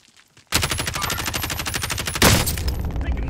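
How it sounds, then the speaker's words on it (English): Inside Call of Duty Warzone, a dense, loud burst of rapid gunfire rattles continuously, then a heavier crack of a sniper shot punches through near the end over the ongoing shooting. "I got sniped from behind!"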